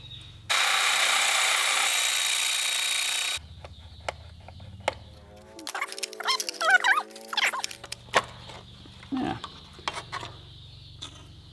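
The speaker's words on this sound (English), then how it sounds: "you have to drill those two rivets out" A power drill bores out two rivets on a BMW 2002 heater box, one loud steady whine of about three seconds followed by scattered clicks, taps and handling noises close by.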